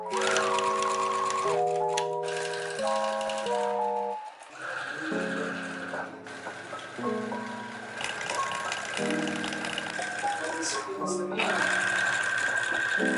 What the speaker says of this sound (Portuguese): Vou passar toda a costura e mostro para vocês como a gente faz o próximo passo.